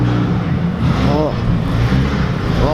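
At a dyno day, a DeLorean's engine gives a low, steady rumble with a rising whine, close by, while people talk over it.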